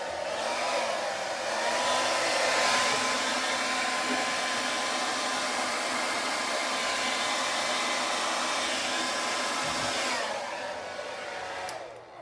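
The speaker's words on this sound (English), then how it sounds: "Let me get my hairdryer ready." A hair dryer blows steadily for about ten seconds, a loud, even whooshing roar that then winds down and shuts off.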